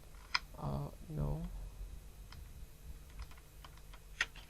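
Typing on a computer keyboard while entering a search, a few scattered key clicks, soft and close, following a brief voice.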